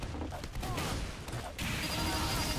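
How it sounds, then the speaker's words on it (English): Shotgun blasts in a video game ring out as dense, layered gunfire, with a sharp shift to a louder burst midway, continuous over a noisy background. "He's shooting me with a shotgun."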